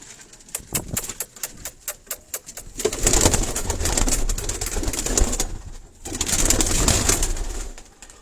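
Sialkoti breed pigeons coo close by in a low, murmuring stream, starting with a few sharp clicks and rising into two fuller stretches of cooing.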